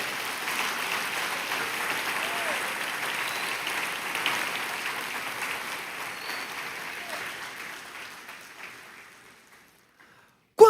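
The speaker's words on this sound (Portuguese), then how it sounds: "Você pode aplaudir o rei por isso" A church congregation applauds together in a steady, fairly loud round of clapping that gradually thins and fades out.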